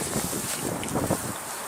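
Strong, cold wind blows hard and steadily across an outdoor memorial site, a loud buffeting roar with gusty rumble close to the microphone and no voices.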